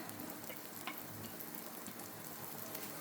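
Garlic, onion and ginger sizzle steadily in oil left over from frying chicken liver, a dense, even crackle with occasional stirring scrapes and no talk.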